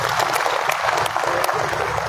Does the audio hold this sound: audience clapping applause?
yes